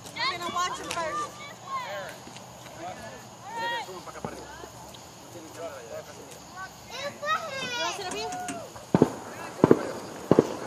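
Fireworks at a Fourth of July fireworks show, with a few sharp, loud bangs near the end under steady chatter from children and adults nearby.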